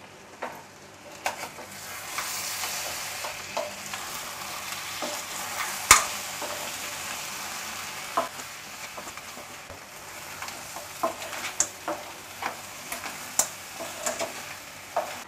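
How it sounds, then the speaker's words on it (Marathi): Tisrya clam masala with fresh coconut being stirred in a pan: a steady soft sizzle with intermittent scraping strokes and a sharp utensil tap, close and without talk. "आता पुन्हा एकदा एकजीव करून घेऊया"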